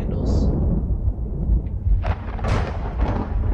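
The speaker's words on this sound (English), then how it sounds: "Okay, honestly, how close is this storm to me?" Thunderstorm in the horror video game Amnesia: Enigma, with low continuous rumbling and a few bursts of crackling thunder, steady and fairly loud throughout.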